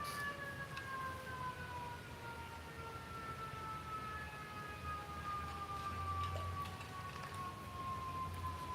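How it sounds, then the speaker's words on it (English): An ambulance siren wails steadily at a distance with slowly falling pitch, faint and continuous beneath a low, constant background rumble, with no voices. "there's an ambulance"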